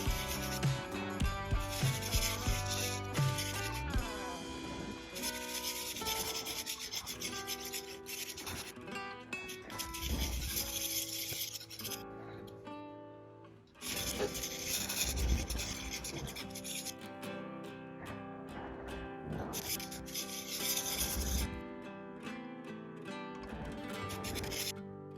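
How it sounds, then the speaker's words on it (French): A knife blade of RWL 34 powder steel is sharpened on a small 240-grit diamond stone at a 25-degree angle, giving steady, loud, gritty rasping strokes in repeated long passes with brief breaks. "J'utilise une petite pierre diamantée en 240."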